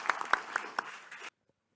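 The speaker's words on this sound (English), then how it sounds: "Let's give one round of applause again to Dr. George Knox" A short burst of applause from a university lecture audience thanking a speaker, with a few sharp distinct claps over a thin clapping wash that stops abruptly, leaving near silence.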